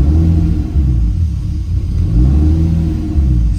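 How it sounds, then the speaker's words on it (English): A turbocharged BMW M50 engine in an E30 revs roughly under light throttle, a loud, close, uneven low drone that surges and dips as it runs unhappily with a suspected mechanical fault. "I gave it a little bit of gas and it's once again not happy, but I think it's mechanical now."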